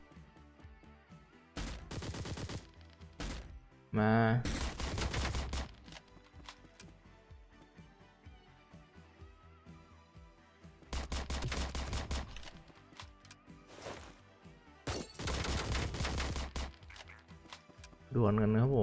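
Bursts of automatic gunfire in the SWAT shooter Door Kickers: Action Squad, several loud rapid volleys separated by quieter gaps, with someone briefly speaking between them.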